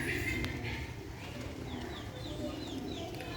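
A black-faced female pigeon coos softly among a few other bird calls in a quiet loft setting, with faint high chirps and low background murmur.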